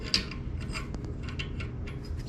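A 1.25 die is worked along a car shifter rod for a Scion tC, making close, steady rasping and scraping strokes with small clicks. No voices can be heard.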